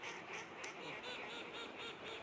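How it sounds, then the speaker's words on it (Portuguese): Faint, distant quacking from a large flock of ducks near Tomar, Portugal, comes in a loose, repeating pulse over a quiet background. "50 mil patos agora."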